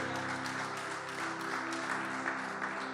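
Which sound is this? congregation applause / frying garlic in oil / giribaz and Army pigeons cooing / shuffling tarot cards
congregation applause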